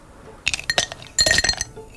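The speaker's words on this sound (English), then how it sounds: "I'm going to pour one after the other into a different glass" Liquid poured into a glass, with short bright clinks and splashing bursts in two close bouts against quiet room tone.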